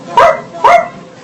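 A person imitates a dog barking with two loud, close woof sounds about half a second apart, each short and voiced like a bark, followed by quiet.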